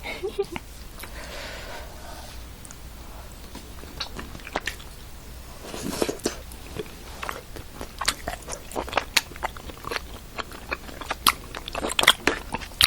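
Someone eats jjajang tteokbokki, chewy rice cakes in black bean sauce, with close crunchy bites and wet chewing that come through in irregular bursts, while people talk quietly nearby.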